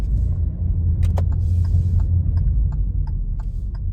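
Car driving, a steady low rumble of the engine and road noise from inside the cabin, with faint intermittent ticks and clicks scattered over it, no talk.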